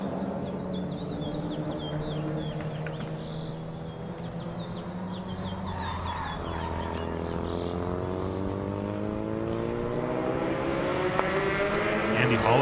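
A Honda CRX street class race car with a K24 swap circles a track in the distance, its engine whine sweeping up and down through gear changes while an announcer talks and birds chirp faintly.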